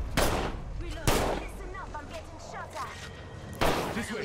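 Gunfire in a first-person shooter video game, with loud sharp bursts of shots near the start, around one second and again late, plus scattered distant shots and voices talking in between.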